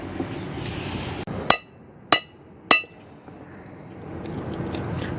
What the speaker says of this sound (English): Installing the wheel studs.